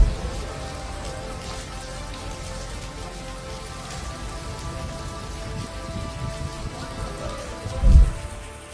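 Heavy unseasonal rain pours steadily over Madhya Pradesh farmland, a dense even hiss of drops with a low rumble and a brief louder thud near the end.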